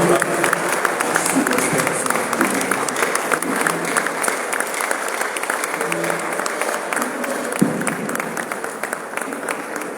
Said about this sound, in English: I want us to welcome him with both standing ovation and clapping ovation to appreciate his sacrifice for our baby.